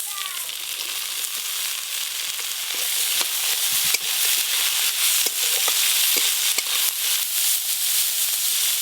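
Spring onions sizzle and fry steadily in a pan with lightly fried chopped garlic, a dense continuous hiss broken by occasional stirring clicks, with no talking.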